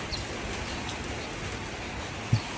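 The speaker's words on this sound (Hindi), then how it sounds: "ये चेक करें बारिश टिप टिप बरसी" Steady, soft hiss of rain falling on a car, even and continuous, with one faint thump near the end.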